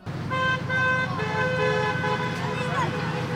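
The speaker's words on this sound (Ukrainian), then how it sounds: "А автомобілісти, що проїжджали повз, підтримували їх сигналячи." Cars driving past honk their horns in support of a student unity chain event, sustained tonal blasts overlapping with engine noise and voices close by.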